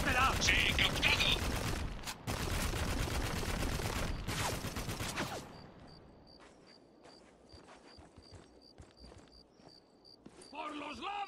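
Rapid machine-gun fire rattles loudly in the war shooter Spec Ops: The Line, dense bursts for several seconds before fading to quieter clicks and distant shots.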